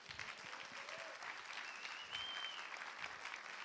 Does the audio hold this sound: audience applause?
yes